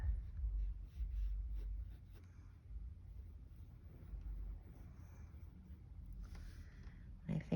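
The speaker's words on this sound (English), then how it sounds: "I'm going to come in and add the white pen again now that I've removed the tape." A white pen scratching and tapping across a painted card in short, faint strokes, close up and quiet, with a few louder bumps near the end.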